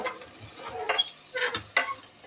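Village-style mutton curry with chukka kura greens being stirred and fried in a pan: a quiet, irregular scraping and clinking of a utensil against the pan, with soft sizzle between the strokes.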